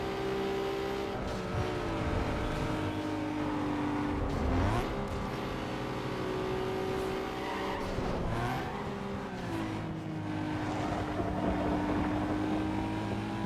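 Race car engines in Need for Speed Underground 2, including a GTO on a forest circuit with long straightaways, drone steadily and loudly throughout, pitch rising and falling as the cars shift and accelerate.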